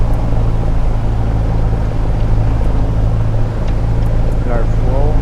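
Cessna 172 engine at run-up in Microsoft Flight Simulator 2020, a loud, steady low propeller-engine drone throughout, with a voice talking over it.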